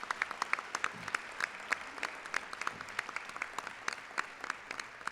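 An audience at a mayor's State of the City address gives a round of applause, a moderate crowd clapping steadily with crisp individual claps standing out, heard a little distant in the hall without speech.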